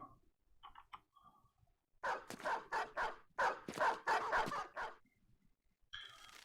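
Several dogs bark in a rapid cluster of overlapping barks in the fantasy strategy game Battle Brothers, loud and close, after a quiet stretch with faint game sounds. No one speaks over them.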